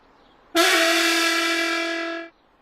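A single loud, sustained horn-like whistle blast from an animated Thomas the Tank Engine scene, unlike an engine whistle, bright and buzzy with rich overtones, holding steady for under two seconds before cutting off.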